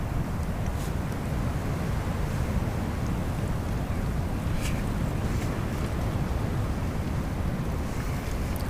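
Strong wind buffets a riverside camp on a kayak trip along the West Nishnabotna, a steady broadband roar with gusty rumble and mic buffeting throughout, loud and continuous with no talking.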